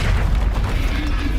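A deep, rumbling magical blast from the Bombarda explosion spell in Hogwarts Legacy, a dense low boom that fills the whole short moment without any clear separate hits.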